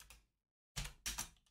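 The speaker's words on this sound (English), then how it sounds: "I'm just writing random stuff, smashing my keyboard." Fast keystrokes on a computer keyboard come in two short close bursts of clicks with a silent pause between them.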